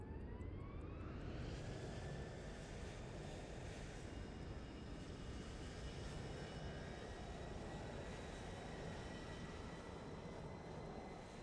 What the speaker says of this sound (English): Next thing for us to do is to get ready for engine start.